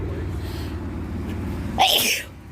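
A single sharp sneeze bursts out near the end, loud and close, over a steady low rumble of an idling car engine, with no talk.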